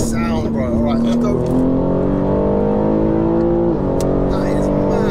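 A tuned 700bhp BMW G80 M3 pulls hard in fourth gear, heard from inside the car: a loud, steady engine roar rising in pitch, with a brief dip around a shift or lift near the end.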